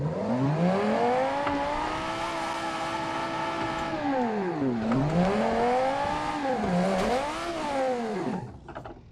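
A concept 2020 Dodge Viper in a driving game, with ESC off, accelerates hard in manual first gear, its engine screaming up steadily, dipping and surging through several revs before cutting off near the end.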